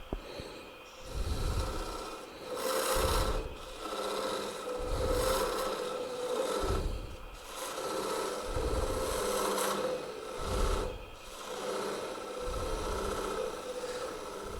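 A 1/2 inch skew chisel cuts a wooden tenon and shoulder on a spinning lathe for a bowl, producing close, rough rasping scrapes in repeated strokes of a couple of seconds each over a steady motor hum.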